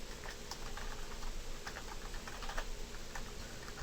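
Rapid, light clicking of computer keys as a name is typed, a steady close patter of keystrokes with no voices.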